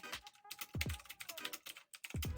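Fast typing on a computer keyboard: quick, irregular key clicks with a few heavier thumps, close and fairly quiet, and no voices.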